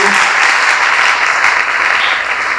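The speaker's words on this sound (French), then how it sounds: "Nous acclamons très fort pour la parole." A church congregation at a worship concert claps loudly and steadily, a close, dense wash of applause that holds evenly the whole time with no voices standing out.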